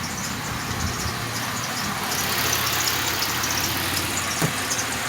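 A 1997 Pontiac Grand Prix GTP two-door coupe idles quietly and steadily up close, a low, even engine hum with no revving.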